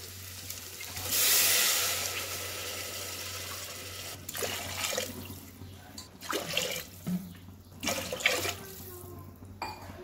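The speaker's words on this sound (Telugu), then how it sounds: "4 గ్లాసుల వాటర్ పోసుకోవాలండి." Water pours into a pot of rice for bagara rice, a brief bright rushing stream near the start, then scattered splashes, clinks and handling noises over a steady low hum.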